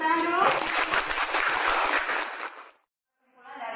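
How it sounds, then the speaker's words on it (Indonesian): A classroom breaks into a burst of clapping that lasts about two seconds, then falls silent. Voices are heard just before and after the clapping. "tepuk tangan dulu"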